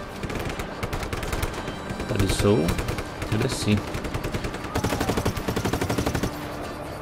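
Rapid bursts of automatic gunfire from the video game Just Cause 3 rattle almost continuously, with game-like sound effects and people talking briefly over the shooting.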